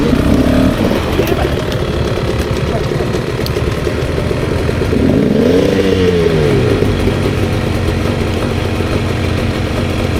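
A 2024 Beta 300 RR Race Edition two-stroke dirt bike rides off-road, its engine droning loud and close throughout with a revving rise midway, voices faintly mixed in.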